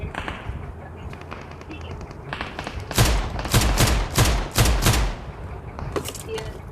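Bursts of gunfire in the PUBG Mobile battle game, several sharp shots clustered in a short volley midway through, over a low game ambience with no clear talk.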